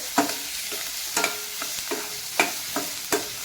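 Onions frying in a pan for a bitter gourd dish, a soft continuous sizzle broken by several sharp spoon scrapes and taps as they are stirred, close and moderately loud, no talking.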